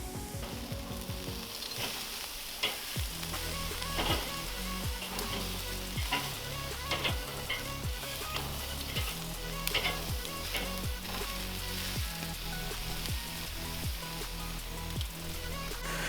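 Chicken kebab skewers sizzle steadily on a barbecue grill, a loud, continuous crackle that holds for the whole stretch with no talking.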